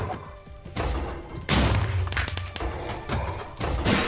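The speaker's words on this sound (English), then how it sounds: "he gets thrown up in the air, but also takes explosion damage when he reacts" Heavy thuds and crashing bursts from an Overload explosion reaction in the video game Genshin Impact, several loud impacts in quick succession with a big boom in the middle, close and alone.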